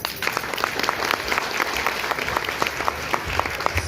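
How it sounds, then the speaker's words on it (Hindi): Audience applauding for a team after a play about construction workers' rights in Delhi, a dense, steady burst of many hands clapping nearby that continues throughout. "पूरी टीम के लिए जोरदार तालियां बजाइए"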